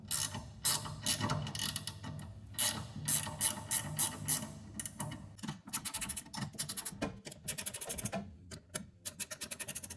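A 12mm wrench working propane heater orifices loose on a Mr Heater Big Maxx garage heater: close, rapid ratcheting clicks and metallic scraping in uneven bursts, sometimes slowing into separate ticks.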